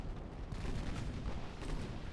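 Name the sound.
torpedo detonation in the video game Ultimate Admiral Dreadnoughts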